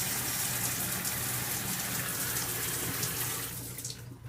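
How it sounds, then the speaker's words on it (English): Water running from a leaking shower head in a bathroom, a steady hissing spray that continues evenly and tapers off near the end, with no talking. "when I turn on the water, you can see that it's coming out right there"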